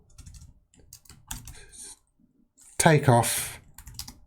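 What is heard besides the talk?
typing on a computer keyboard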